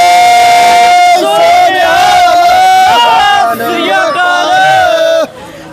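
Sikh jaikara slogan at a school gathering with schoolgirls, as a crowd of voices shouts the call in loud, sustained unison, rising and falling in pitch through a couple of phrases before cutting off sharply.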